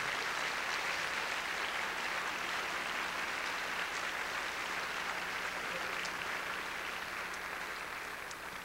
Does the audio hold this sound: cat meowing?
no